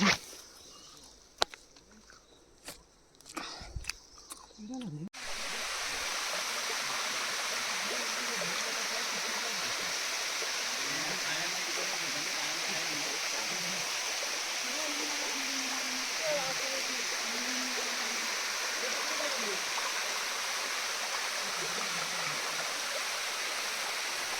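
Creek water rushes steadily and continuously through a tidal creek after a few seconds of clicks and handling noise, with faint voices occasionally heard over the flow.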